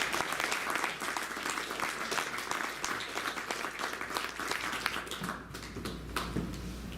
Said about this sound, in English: So please give a round of applause to David Trinidad.